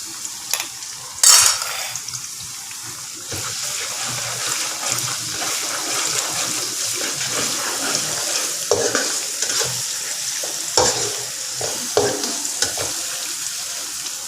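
Chopped ginger sizzles in hot oil in a pan for crab perattal while a spoon stirs it, giving a steady close frying hiss broken by scraping and clinking strokes against the pan.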